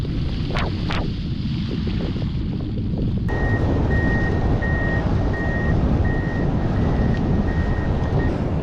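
A beach scraper sounds its reversing alarm, a regular series of evenly spaced beeps at moderate distance, over strong wind buffeting and distant surf after a few earlier brief tones.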